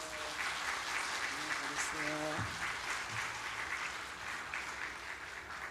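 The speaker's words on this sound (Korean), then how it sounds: "박수로 여러분" Steady applause from a church congregation during a family worship service fills the room throughout, with faint tonal sounds and some voices briefly under the clapping.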